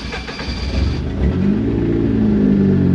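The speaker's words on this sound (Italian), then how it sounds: "Buona, l'auto è partita." A BMW E36 with a swapped turbocharged Honda K24 engine cranks and fires up, settling into a loud, close, steady idle rumble with no talking.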